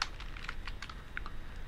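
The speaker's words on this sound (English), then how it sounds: "I just hit K because there's no other K's, and then I hit tab button and it filled in the rest" Keys clack rapidly on a computer keyboard as someone types at a terminal on a Raspberry Pi, including presses of the K and Tab keys. The keystrokes are close, crisp and unevenly spaced, heard alone over a steady faint hum.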